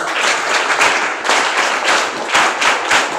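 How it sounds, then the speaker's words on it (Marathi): Students at a school event clap for their headmaster, a full crowd applause with a close, thumping edge that swells and dips in uneven bursts. "एकदा आपले मुख्याध्यापक सर यांच्यासाठी टाळ्या वाजवा"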